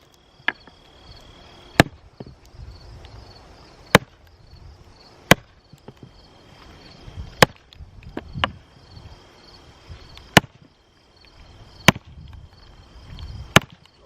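Sharp wooden cracks from a Halder Simplex maul striking a twisted splitting wedge in a log, about eight evenly spaced hits, with faint creaking and crackling between them as the wood splits.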